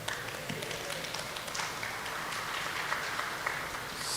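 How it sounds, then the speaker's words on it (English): A few professors in an audience at an IIT Kanpur talk clap sparsely and faintly against a noisy hall background. "only the professors are clapping"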